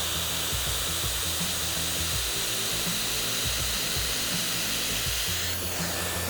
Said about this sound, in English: setting my brush, letting my blow dryer follow